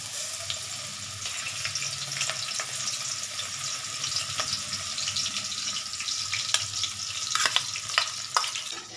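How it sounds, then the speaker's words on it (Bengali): Garlic paste sizzles and fries steadily in hot oil for a chilli chicken, with a broad continuous crackle and occasional sharper pops and stirring clicks, fairly close and alone. "এই রসুন বাটাটা আমি দিয়ে দিচ্ছি।"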